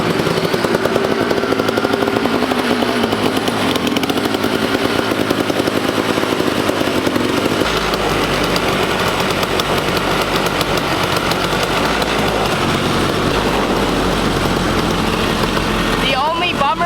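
A Kawasaki KX500 two-stroke dirt bike engine runs with a continuous loud buzzing drone and a rough, uneven low rumble throughout, heard close, with a voice talking over it.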